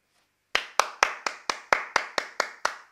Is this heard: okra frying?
no